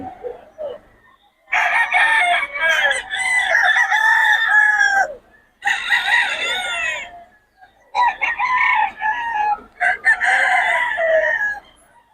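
Pumpkin sweater gamefowl roosters at Bocaue crow loudly and close in several long, separate bursts, with softer clucking in the quieter gaps between them.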